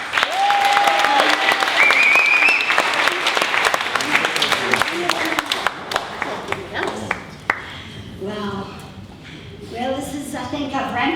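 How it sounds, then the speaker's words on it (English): An audience applauds a comedian at her one-woman show, a dense burst that thins into scattered claps, with a voice speaking over it and some whistles near the start. "let's give her a round of applause"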